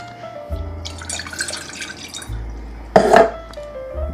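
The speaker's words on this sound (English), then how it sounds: "I'm gonna add the water." Water poured into a saucepan on the stove for cranberry sauce, a short splashing pour followed by a louder burst of trickling and dripping, close and fairly quiet against a low hum.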